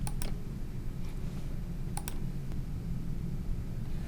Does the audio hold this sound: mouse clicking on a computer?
yes